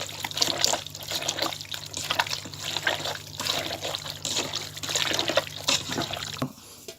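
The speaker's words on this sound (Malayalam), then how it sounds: "എണ്ണ ഒഴിക്കാം" Cooking oil pours into a pan in a thin, continuous trickle close by, with a low steady hum underneath, before it stops near the end.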